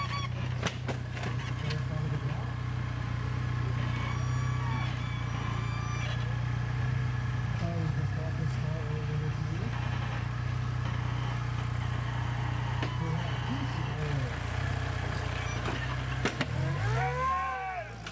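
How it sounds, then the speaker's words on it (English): Supercharged vehicle engine at the XRock Coal Cracker off-road event at Reading Outdoors, droning and revving with supercharger whine and shifting pitch, alongside horn-like honks, one near the end. "supercharger. Making some noise."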